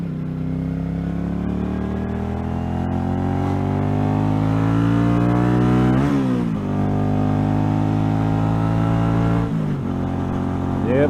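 A 1981 Honda GL500 Silverwing Interstate motorcycle engine running on the road, a loud steady drone rising in pitch as it accelerates, dipping sharply at gear changes around six and nine and a half seconds before climbing again, close and continuous.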